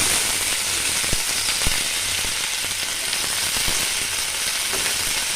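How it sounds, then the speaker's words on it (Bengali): Potatoes and okra fry in hot oil in a pan for a curry, giving a continuous bright sizzle punctuated by a few sharp crackles and pops, with no speech. "আলুগুলো দিয়ে দেবো, একটু ভেজে নেব।"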